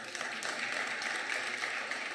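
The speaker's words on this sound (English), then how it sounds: "Don't mind to clap hands." Audience clapping at a President Ramaphosa annual address to the National Council of Provinces: dense, steady applause filling the hall for about two seconds, moderately loud with no break.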